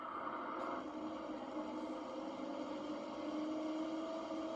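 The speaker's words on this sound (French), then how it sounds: "Oh, le tracteur il galère les gars." A tractor engine labouring under load while spreading manure in a field, a steady droning hum with a rising pitch, loud and continuous throughout, with no talk.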